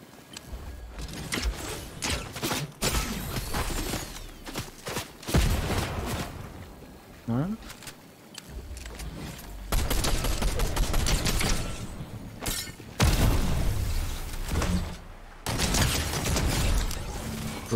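In the Fortnite video game, a shotgun fires in loud, sharp blasts spaced irregularly through busy gameplay noise, with a voice speaking faintly at times.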